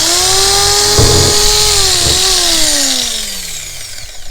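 A power drill bores a pilot hole through a boat hull from above, a loud steady whine that slowly drops in pitch as the bit works through, with a few knocks along the way.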